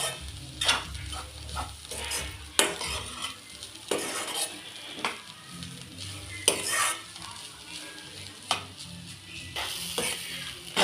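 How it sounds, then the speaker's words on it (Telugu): Carrot fry with chilli powder is stirred in a pan with a spatula, giving repeated close scraping and clinking strokes at an uneven pace over a gentle, continuous sizzle, with no voices. "కారం వేసి కలుపుకోవాలండి ఒక టూ త్రీ మినిట్స్ ఉడికించుకోవాలి"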